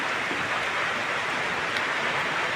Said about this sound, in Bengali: বাইরে ঝিরিঝিরি বৃষ্টি হচ্ছে